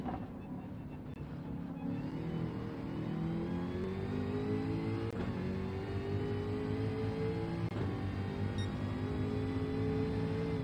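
A race car in Gran Turismo 7 at Bathurst, its engine revving loud and steady as it climbs through the gears, rising pitch sweeps with brief shift dips, continuous throughout.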